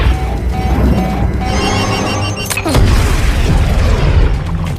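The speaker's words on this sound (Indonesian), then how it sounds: "Tembakan yang menghasilkan energi yang begitu besar hingga membuat Mayor Session terlempar jauh dari senjatanya" A powerful energy weapon fires in the film Spectral with a loud, dense blast midway, preceded by a charging whine and followed by a rumbling roar of cinematic effects.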